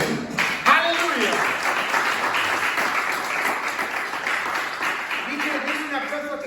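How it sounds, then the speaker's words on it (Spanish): A church congregation applauds in sustained, dense clapping that fills the room, while voices shout and talk over it throughout. "Dile un aplauso a Jesucristo."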